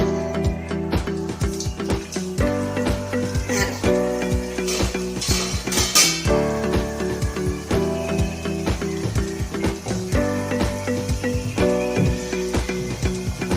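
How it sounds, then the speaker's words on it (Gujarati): Farsi puris fry in hot oil in a home kitchen, a steady sizzle running throughout, with frequent clinks and scrapes of a metal spoon against the pan. "તો હવે આપણે તળી લેશું પૂરીને"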